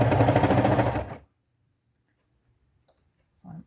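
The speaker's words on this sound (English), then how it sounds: "because I'm on the serger, I've just taken and just gone over it" A serger sewing machine runs over a waistband seam on pull-on pants, a loud, fast, whirring stitch lasting about a second before it stops. A faint tap and a brief low bump follow in near silence.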